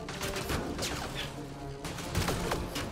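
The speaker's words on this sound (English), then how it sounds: "I don't understand who's shooting who where." A gunfire exchange in Mass Effect Andromeda rattles in rapid repeated shots and sharp bursts, close and continuous over game noise, with no talk.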